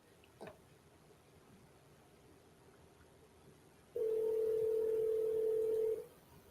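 A steady telephone tone sounds for about two seconds over faint room noise during a live call to a seller, with a brief click near the start and no talking.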